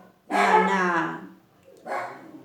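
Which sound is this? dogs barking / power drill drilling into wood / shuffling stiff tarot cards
dogs barking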